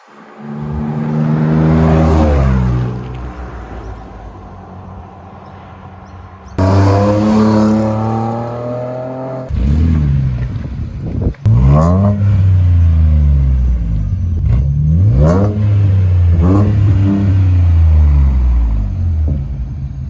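A Ford Raptor truck's V6 twin-turbo engine, with modified intercooler and exhaust, passes close by at the speed limit, its deep rumble swelling and fading in several waves with a throaty, roaring tone.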